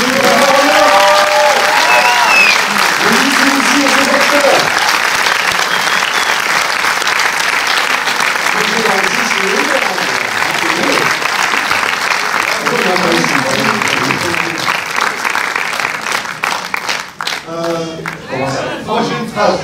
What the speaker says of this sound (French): Un très bien applaudissement, s'il vous plaît,